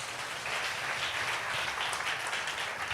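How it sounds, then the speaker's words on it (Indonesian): A congregation at an evening prayer service in Indonesia claps together in a continuous, even roar of applause that fills the room at fairly high level, with no voices rising above it. "Oke, tepuk tangannya mana?"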